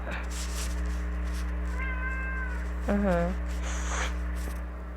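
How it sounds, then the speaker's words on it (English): A cat shut in a room meows twice, a drawn-out call and then a shorter rising one, close by and fairly loud over a steady low hum. "my cat wants to get out the room."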